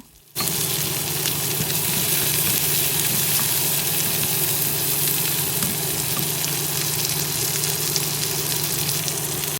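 Whole cardamom, cinnamon, cumin, bay leaf and large garlic cloves sputter in hot oil with onions, making a loud, continuous sizzle that starts abruptly and holds steady throughout.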